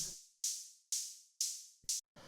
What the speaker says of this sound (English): this is a really simple hi-hat that I made with Operator